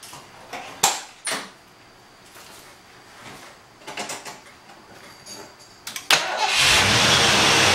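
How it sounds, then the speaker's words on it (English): A few sharp clicks and clunks, then a 1986 Mustang GT engine cranks and catches, settling into a steady running rumble close by. "Let's go ahead and start the engine."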